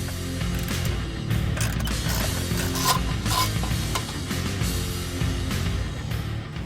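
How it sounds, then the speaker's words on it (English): A ratchet tool clicks steadily and mechanically while removing two bolts that hold a metal plate in the dash of a 1990-1993 Ford Mustang, with a continuous close-up rattle and no talking. "Now remove the 2 bolts that hold the metal plate in."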